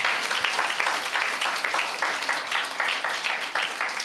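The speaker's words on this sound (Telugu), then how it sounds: "కొట్టు చప్పట్లు ఇప్పుడు" An audience at a live church sermon claps steadily, a continuous dense wash of many hands applauding at moderate loudness with no talk over it.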